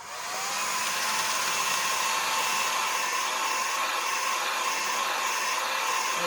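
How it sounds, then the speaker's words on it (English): A hair dryer blows steadily and close over wet finger-paint artwork of a fish, with a constant breathy whoosh after a quick start-up and no speech. "We're going to need to use our hair dryer just a little bit longer for this layer"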